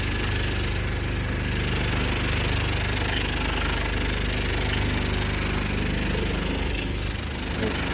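A self-service jet wash pressure washer rinses car wheels, giving a steady, close, continuous hiss and engine-like drone throughout, with a brief louder burst of spray near the end.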